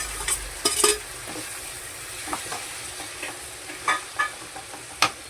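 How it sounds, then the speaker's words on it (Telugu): Spinach is stirred into a frying chili mixture in a pan, a continuous sizzle broken by repeated scraping clinks and knocks of a spoon against the pan. "ఇందులో నేను 5 కట్టల పాలకూర తీసుకున్నానండి. ఇలా వేసేసుకొని కలిపేసుకోవాలి."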